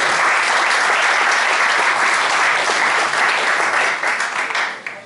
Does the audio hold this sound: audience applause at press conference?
yes